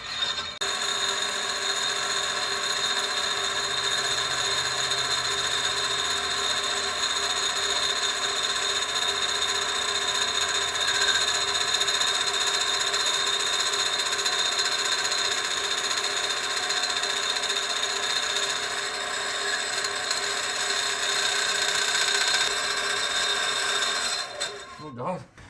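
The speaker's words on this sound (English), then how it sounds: "the one thing I do remember about the mini lathe, number one, this is the most dangerous lathe known to mankind" A Harbor Freight mini lathe runs steadily for about 25 seconds, a loud, continuous mechanical whine with stable motor tones and a rattling undertone, then winds down abruptly at the end.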